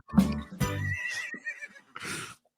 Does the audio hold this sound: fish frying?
no